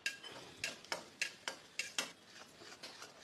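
Mustard seeds, lentils, garlic and curry leaves frying in oil for a tomato curry, heard as a rhythmic series of about ten sharp scraping stirs against the pan over a soft sizzle, with no speech.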